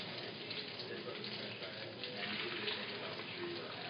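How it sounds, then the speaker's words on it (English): Seasoned-side-down food searing in a hot pan, a steady, dense sizzle that runs continuously and fairly close at even loudness throughout. "Good sizzle on that."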